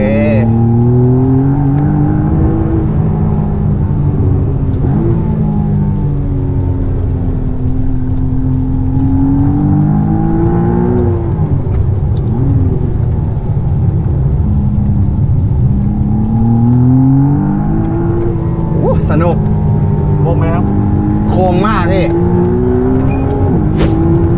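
A McLaren Artura supercar accelerates hard around a race track, its engine droning loud and continuous from inside the cabin as the pitch rises and falls through gear changes.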